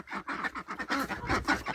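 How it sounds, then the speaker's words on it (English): Several geese honking and cackling close by in a farmyard, a busy flock with overlapping calls in quick succession. "These geese just get in the way of everything."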